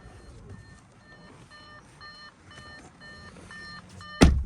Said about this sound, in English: If the car's running while you're, doing what I'm doing, that little beeping sound will happen